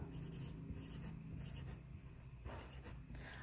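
Numbers are written by hand with steady, very faint scratching strokes that run on quietly throughout.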